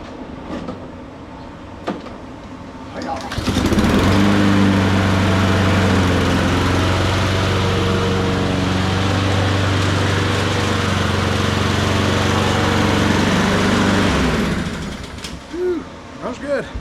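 A Jonsered/Husqvarna L4721 21-inch AWD walk-behind lawn mower engine starts up with a rising roar, runs at a steady loud drone for about ten seconds, then winds down, with quieter handling noises before and after.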